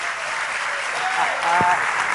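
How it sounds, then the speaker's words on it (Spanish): A church crowd applauds a pastor in a thick, continuous wash of clapping, with a brief voice rising over it near the end. "aplauso a Pastor Alejandro Escobedo de la iglesia Conquistando Fronteras de la Ciudad de México."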